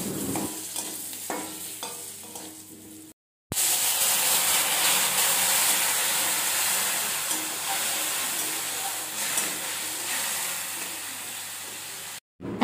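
Spice masala with turmeric fries and sizzles steadily in a pan with a splash of water, stirred as it cooks for a Bengali hilsa dish, with a brief break in the sound partway through.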